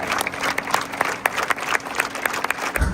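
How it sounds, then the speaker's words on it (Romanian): Standing ovation from a concert audience after a singer's finale, brisk clapping with sharp individual claps standing out over the crowd, sustained and fairly close, with a thump near the end. "Aplauze în picioare de data."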